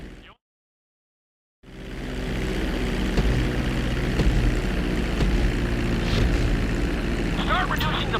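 Propeller airplane engine drone in GTA 5 as the plane descends toward the runway for landing, a steady loud hum that starts after a brief silence and continues throughout.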